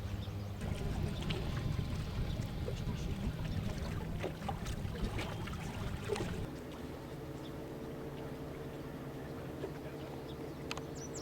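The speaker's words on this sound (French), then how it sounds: "Il y a un moteur qui fonctionne parce qu'on voit l'écume en arrière." Low droning engine of a small motorized barge guiding a cargo barge across a bay, a steady rumble with wind and water noise that drops to a quieter hum about halfway through, with occasional faint clicks.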